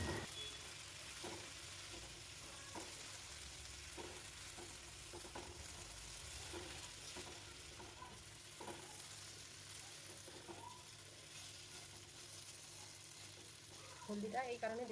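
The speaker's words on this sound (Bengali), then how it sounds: "হলুদ দেওয়ার পর আবার আমরা কিছুক্ষণের জন্য এটাকে নেড়ে নেব" Yam curry with turmeric is stirred in a frying pan, with soft, faint scrapes and taps repeating at an irregular, unhurried pace over a low steady sizzle. A voice comes in briefly at the end.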